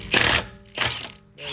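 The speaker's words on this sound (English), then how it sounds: "I remove the remaining lug nuts." Lug nuts come off a Lexus RX wheel in three short, loud rattling mechanical bursts, each about half a second long and separated by brief pauses.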